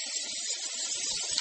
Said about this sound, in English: cooking it, frying it in butter